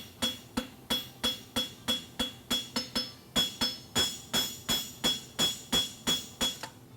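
A blacksmith hammers a horseshoe at a world championship forging event, about twenty sharp ringing metallic blows in a brisk, steady rhythm, close and loud, with no speech.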